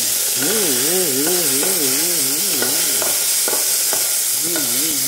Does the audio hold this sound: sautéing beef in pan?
yes